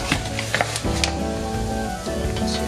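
Flour toasting in a pan as the base for a creamy cheddar broccoli soup, a steady close sizzle with a few scraping stirs and a faint clink.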